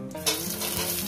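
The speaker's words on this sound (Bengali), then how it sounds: "পেঁয়াজ রসুন একসঙ্গে দিয়ে দিলাম, দিয়ে এটাকে আমি একটু ভেজে নেব।" Onion and garlic dropped into hot oil with dried chillies, bursting into a loud, close, steady sizzle that holds for a moment with no talking.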